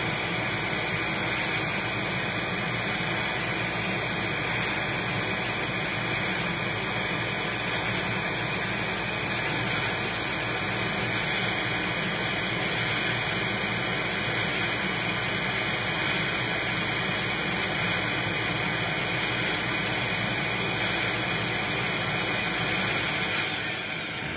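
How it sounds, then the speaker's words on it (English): A PCB mill cutting with a V tool bit doing fine work gives off a continuous, even whirring hiss with a faint high tone, steady throughout and heard alone. "It's picked up bit 1, which is the V tool. And it's doing some of the fine work first."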